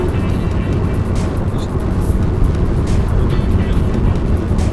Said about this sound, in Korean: 수동 같은 경우에는 지금 제가 3단 고정시켜놓고 악셀에서 발을 떼기만 하면